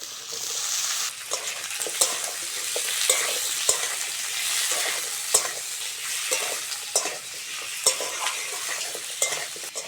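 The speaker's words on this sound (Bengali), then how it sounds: "রেসিপিটার জন্য আলু ভালো করে ভেজে নিতে হবে।" Potatoes frying in a pan with onion and green chilli, a constant close sizzle with scattered clinks and scrapes of stirring throughout, no voices.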